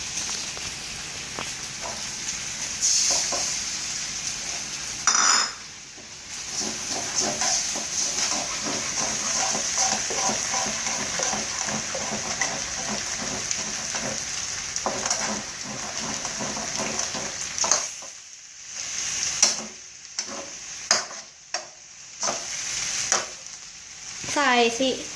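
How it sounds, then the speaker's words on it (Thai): Squid stir-frying in a pan for seafood fried rice gives a loud, continuous sizzle, broken by clattering spatula strokes, and a few brief dips where the noise drops away. "ต้องรอให้ปลาหมึกมันผัดสักพักเพราะว่าปลาหมึกมันสุกช้านะคะ"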